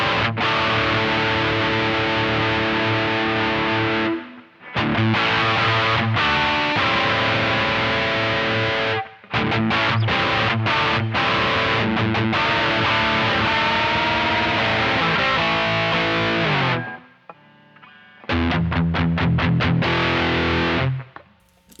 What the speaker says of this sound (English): You don't very often get a fuzz that you can describe as being punchy.